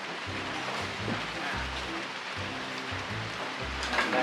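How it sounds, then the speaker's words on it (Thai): Rain falling steadily outdoors on a behind-the-scenes set for a coffee advertisement, a constant dense patter with low rumbling thumps mixed in. "ฝนตกเลยนะ"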